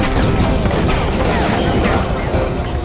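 Cannon fire and explosions from a war film crash and rumble in dense, continuous bursts, loud and overlapping with battle noise.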